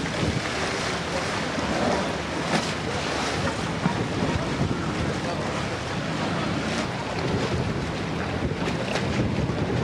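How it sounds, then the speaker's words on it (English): Strong wind roars across a dock on Kos Island, a loud, continuous buffeting rush with gusts hitting the microphone, lapping water and boat sounds mixed underneath for the full ten seconds. "Sorry, because of the wind."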